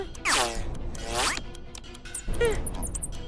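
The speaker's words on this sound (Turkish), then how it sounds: "Tornavida." A cartoon screwdriver effect plays as three quick ratcheting, zipper-like bursts with rising and falling pitch, each under half a second, separated by brief pauses.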